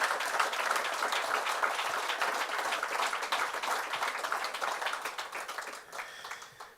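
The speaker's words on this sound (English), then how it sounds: "So a final round of applause for our under-19 men's cricketers that are going to the World" Warm audience applause for under-19 men's cricketers at a South African capping ceremony, dense sustained clapping that gradually thins out toward the end.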